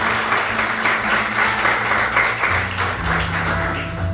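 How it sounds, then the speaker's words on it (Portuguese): A church congregation applauds loudly and steadily during a Portuguese-language sermon, dense clapping filling the room from start to finish with no speech over it. "Vamos aplaudir a palavra de Deus com força"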